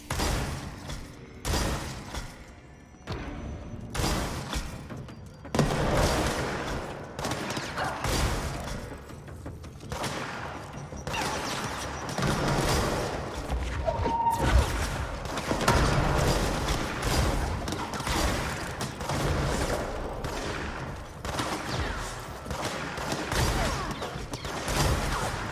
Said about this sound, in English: Press left trigger to fire single adherence grenades. Plus left trigger to detonate the grenade.